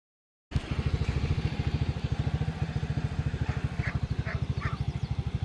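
An old Suzuki King Quad ATV engine starts up after a moment of silence and runs at a steady low idle close by, its rapid even thumping pulse continuing without any voices.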